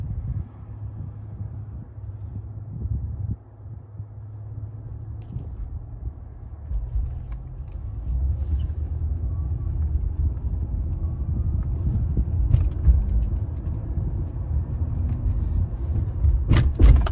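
A car idles and then pulls out of a parking lot into a street with passing traffic, heard from inside as a steady low engine rumble and road noise that swells as it drives off.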